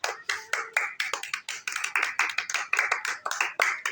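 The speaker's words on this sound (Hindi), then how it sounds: "तालियां हरियाणा की स्टोरी के लिए, तालियां।" A small group claps after a told story, quick uneven handclaps close to the mic, rattling along steadily for several seconds with no talking.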